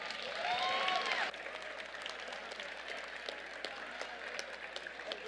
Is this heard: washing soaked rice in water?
no